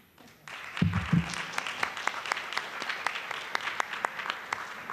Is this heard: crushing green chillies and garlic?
no